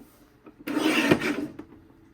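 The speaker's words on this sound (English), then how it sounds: "I want you to place it in the trimmer so that this narrow strip is on your right, and we'll cut at 11" A paper trimmer slices a narrow strip off a sheet of patterned paper for a scrapbook page kit, making a single close, rasping slide that lasts about a second in a quiet room.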